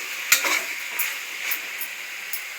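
Chicken with ginger garlic paste and turmeric sizzles in a pan for gongura pulav while it is stirred, with a loud knock of the spoon and then softer scraping strokes over a steady frying hiss.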